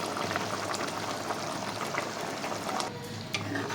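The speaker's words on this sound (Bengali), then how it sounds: "এবার একটু এটা ঢাকা দিয়ে ফুটতে দিতে হবে" Hilsa fish malai curry simmers in a covered pot, a close, steady bubbling and low sizzle with a few faint clinks, and no one speaking.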